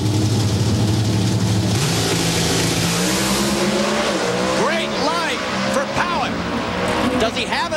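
A Pro Stock drag race car roars down the track at the 2004 NHRA Pontiac Excitement Nationals in Columbus, a loud sustained engine howl with rising pitch sweeps and tire noise, under crowd and commentary-like voices.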